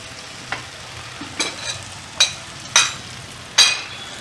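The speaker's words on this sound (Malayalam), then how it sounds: "ഇതിലേക്ക് ഞാൻ ഈ വെണ്ടയ്ക്ക അരിഞ്ഞ് വെച്ചിടുന്നു" Chopped okra goes into a pan of softened tomatoes over a medium gas flame: several sharp, separate spoon clatters and scrapes stand out over a faint, low sizzle.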